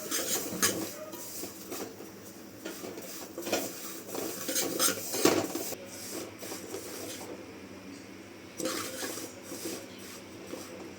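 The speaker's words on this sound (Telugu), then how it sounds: "కొంచెం బ్రౌన్ కలర్ వచ్చేటట్టు ఫ్రై చేసుకోవాలండి." Food frying in a pan until brown, with repeated scraping, clinking and stirring of a metal utensil against the pan, moderately close and without talk.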